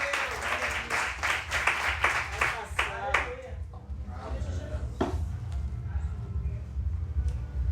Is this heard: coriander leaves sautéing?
no